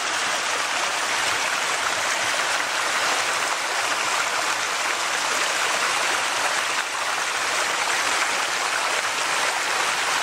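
A woodland waterfall roars in a loud, steady broadband rush of falling and splashing water, close and unbroken throughout, with no talk over it.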